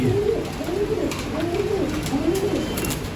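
Pigeons coo repeatedly in a loft and aviary, several soft rolling calls following one another at close range with a light background hiss and no talk.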